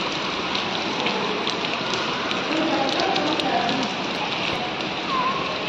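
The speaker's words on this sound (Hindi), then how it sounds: "और बारिश हो रही है बहुत तेज से।" Heavy monsoon rain pours down outdoors in a steady, dense hiss of drops hitting the ground, loud and continuous with faint activity in the background.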